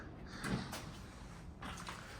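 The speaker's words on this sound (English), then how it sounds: "Windy day out there, you can hear it shaking the boards." Low wooden knocking and creaking as wind shakes and rattles the boards of an abandoned 1860 Gothic Revival house, a couple of soft thumps in a quiet, steady background.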